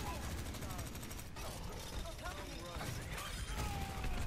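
Rapid mechanical gunfire bursts in the video game Overwatch during a Mystery Heroes match, steady and continuous throughout with metallic clatter and effects layered over it.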